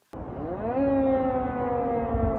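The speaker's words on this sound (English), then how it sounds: "Russian air raid sirens sounded for the first time over new threat from Ukraine" Russian civil defense air raid siren starting abruptly and rising to a sustained, wailing tone that holds steady, loud and alone.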